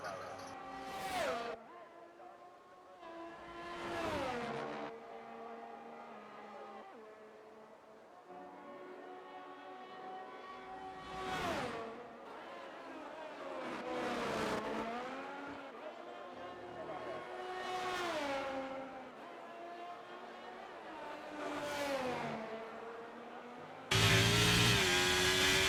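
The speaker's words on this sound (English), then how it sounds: "we'll leave you with some lovely cinematic of Sim Racing Newbie taking you around Monza" A sim racing car laps the Monza circuit, its engine note climbing through rising whines and dropping sharply on each shift and braking, repeating in long surges across the lap, with a louder burst of noise at the very end.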